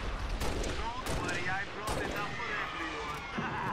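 Turret gunfire in Halo Reach, a steady stream of mid-level shots under continuous game noise and a faint voice.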